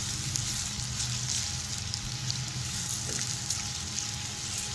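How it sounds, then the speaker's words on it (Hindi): Onions frying in a pan with a soft, continuous sizzle and crackle, fairly quiet and even throughout with no talking. "पाँच से 6 मिनट में हमारी प्याज फ्राई हो जाएगी"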